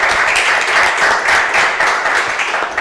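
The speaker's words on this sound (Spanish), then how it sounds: "Le damos un aplauso, Lucía, chicos." An audience claps in steady, dense applause at an interview event, loud and close, with a gentle rhythmic pulse and no voices over it.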